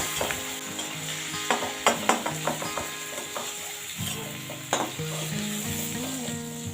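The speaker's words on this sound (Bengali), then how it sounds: "বেশি আঁচে চিংড়ি মাছ ভাজলে ভালো করে সিদ্ধ হবে না।" Prawns fry in a pan over high heat, a steady sizzle under a series of sharp scraping and clattering stirs, close and fairly loud.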